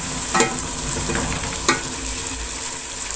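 Chicken fries in a pan with a bright continuous sizzle, broken by a few sharp scraping strokes of a spatula as the pieces are stirred.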